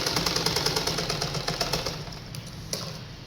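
A sewing machine stitches the waist seam of a cotton underskirt, a steady rapid rhythmic clatter of stitches that runs close and fairly loud, then eases slightly toward the end.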